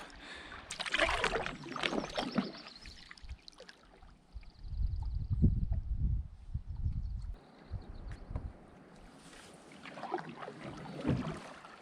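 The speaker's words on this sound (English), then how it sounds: "Just gotta make sure you stay straight and just keep paddling, don't stop" Canoe paddling on a lake in the boreal forest during a solo wilderness trip: rhythmic paddle strokes and water splashes come in bursts close by, with quieter gliding stretches between them.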